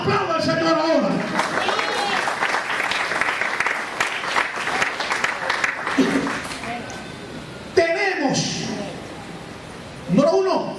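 A church congregation claps and cheers loudly for several seconds. The applause fades, and a preacher's voice breaks in twice near the end.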